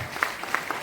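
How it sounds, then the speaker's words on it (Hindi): An audience claps at a motivational seminar on mindset and success, a brief steady patter of many hands with a few sharper individual claps standing out. "जोरदार ताली दाओ सार मान को विदाय दो"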